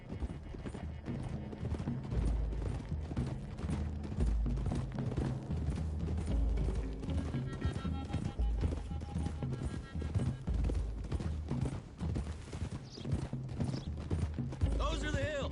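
Horses gallop in Red Dead Redemption 2 with steady, dense clip-clop hoofbeats. Creaking tack, an occasional whinny and a loud game score sit under and around the hooves, with a rider's voice in places.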